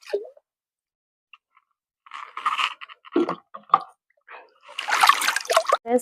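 A new clay pot washed by hand with water, the hand rubbing and sloshing in close, irregular bursts of splashing and scrubbing after a quiet opening, busiest toward the end.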